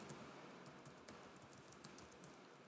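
Soft keystrokes tap on a computer keyboard in an irregular quick sequence, faint and close, with no voices.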